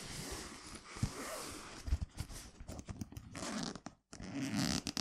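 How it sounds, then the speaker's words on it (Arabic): A zipper on a Egyptian-made camera bag is pulled open in several quick rasping strokes, close up and fairly quiet, mixed with fabric rustling and handling noises. "الخامات مش اعلى حاجه لكن مش بطاله نشوف السوست بتاعتها"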